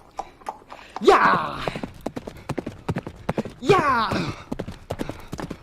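Rhythmic hoof clip-clop of a horse sound effect, sharp repeated knocks running steadily under an excited voice shouting twice.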